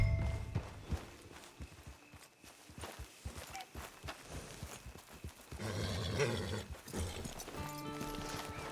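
A horse in a video game clops along at a walk over open ground, steady hoof falls with a low rumbling game soundtrack behind them.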